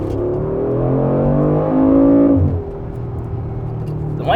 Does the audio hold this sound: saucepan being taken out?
no